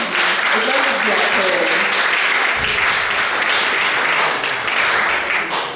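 Audience applause for contestants at a Junior Science and Maths Quiz preliminary, a dense steady wash of clapping that stays loud for the whole stretch, with no one talking over it.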